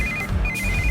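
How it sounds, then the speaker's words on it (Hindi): A phone rings twice in an electronic trill, a short pattern followed by a longer one, clear and close over a low background of film music. "इस वक्त दीदी का फोन।"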